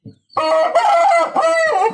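A rooster crows loudly and close by, one long drawn-out call with a brief dip partway through, preceded by a short faint squawk.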